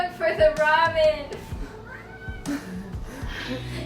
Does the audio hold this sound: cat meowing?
yes